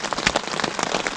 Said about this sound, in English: enjoy the pitter-patter of the rain